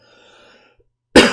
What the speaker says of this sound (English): Oh my, I just had to cough.